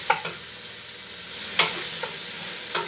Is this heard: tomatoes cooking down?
yes